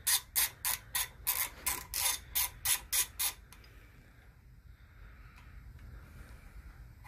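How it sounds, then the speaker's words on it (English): A ratchet loosens the brake caliper hose bracket bolt on a Suzuki Boulevard S50 motorcycle, giving about a dozen quick, close, evenly spaced clicks before falling quiet. "we're going to go ahead and undo the bracket for the brake caliper hose"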